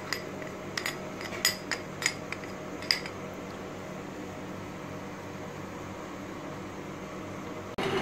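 Custard powder is mixed into milk with a spoon, giving a handful of light clinks and taps against the vessel in the first few seconds, then a quiet steady background hum, close and soft.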